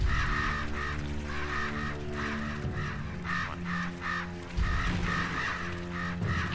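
Repeated harsh caws from a flock of crows in the video game Selma and the Wisp, rising in bursts over a steady droning game music bed, fairly close and continuous with no talk.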